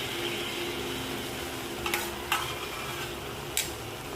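Egg frying in a pan for an egg sandwich, a steady faint sizzle running throughout with a few brief clinks of a utensil against the pan.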